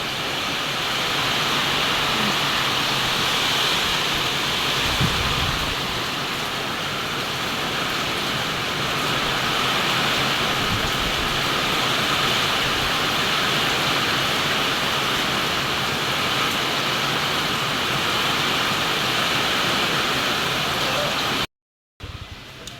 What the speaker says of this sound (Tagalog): itong ulan ay malakas.